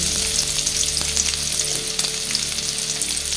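Onion and garlic frying loudly in a pan for Bengali pea-shoot greens, a dense, continuous close sizzle with faint stirring clicks and a low background hum throughout, no voices.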